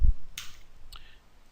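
Keyboard keys on a computer are pressed with Num Lock on, giving a couple of sharp, isolated clicks close by, separated by a brief pause, with no voices.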